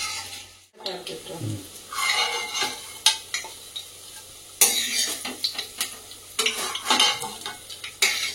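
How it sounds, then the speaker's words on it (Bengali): Chicken balls frying in a pan of oil, sizzling under repeated clinks and scrapes of a utensil against the pan, in irregular bursts close by. "বাকি যে বলগুলো রয়েছে সেই কটা ভেজে নেবো"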